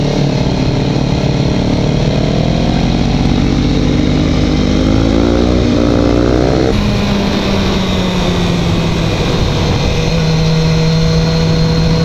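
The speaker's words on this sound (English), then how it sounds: "heading back down from Angeles Crest Highway in this BMW S1000R" A BMW S1000R motorcycle ridden down the Angeles Crest Highway, its engine loud and close with rising revs, a gear change midway, and heavy wind rush throughout.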